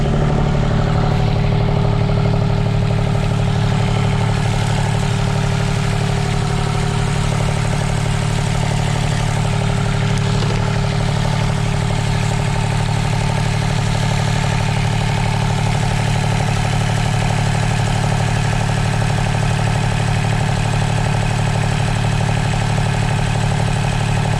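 A diesel marine engine idles steadily just after starting, a loud, even, continuous low rumble that holds without pause and has no voices over it.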